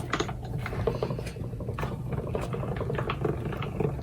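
Embossing folder being cranked through a Stampin' Up! Cut & Emboss machine, a close, steady clicking and ratcheting grind of the rollers with light irregular taps, heard alone without talk.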